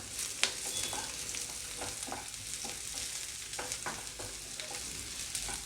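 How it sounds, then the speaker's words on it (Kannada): Cinnamon and cloves frying in a pan, a faint, continuous sizzle broken by soft scattered crackles and light stirring taps throughout, with no voices. "ಚಕ್ಕೆ ಲವಂಗ ಹಾಕ್ತಾಯಿದ್ದೀನಿ ಸ್ವಲ್ಪ ಹಂಗೆ ಫ್ರೈ ಮಾಡ್ಕೊಳ್ಳೋಣ"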